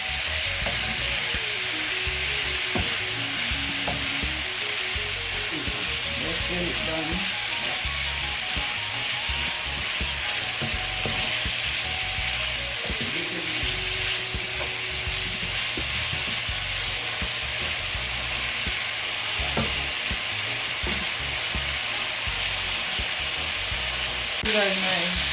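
Steady, loud sizzling of chicken breast frying in a pan fills the whole stretch, with occasional scraping and stirring clicks and a brief spoken remark.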